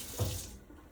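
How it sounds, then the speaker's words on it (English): A kitchen sink tap turned on, giving a brief burst of running water that settles into a steady faint hiss, heard alone. "I would come over here and run the water."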